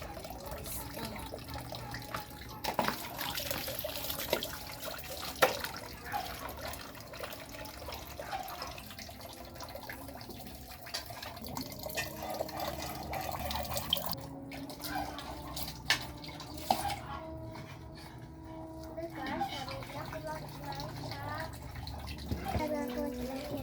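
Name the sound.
washing long beans under running tap water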